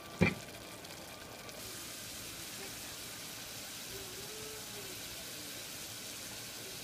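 Ginger garlic paste fries with onions in a pan for tomato rice, giving a quiet, even sizzling hiss after a single knock at the start.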